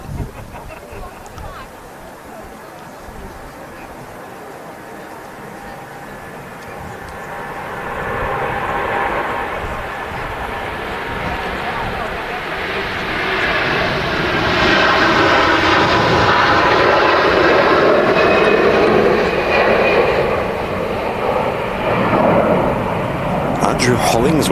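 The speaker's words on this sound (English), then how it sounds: "330 on the roll, there we go." An Airbus A330 jet on its takeoff roll at a windy Manchester Airport builds from a low rumble into a loud, rising engine roar with swelling whine, while someone talks over it.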